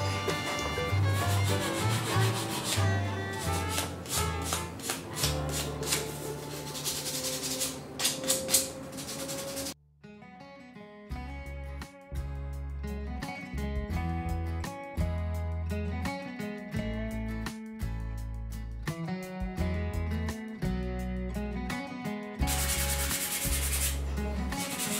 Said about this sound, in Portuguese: Agora, pessoal, eu vou lixar os pezinhos, tá?